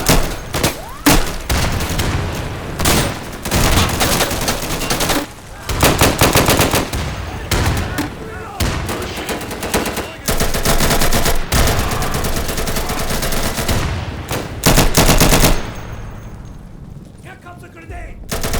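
Near-continuous automatic gunfire from the shooter game Insurgency: Sandstorm, loud bursts and overlapping volleys filling most of the stretch with brief gaps, voices shouting in the mix, before fading to quieter noise at the end.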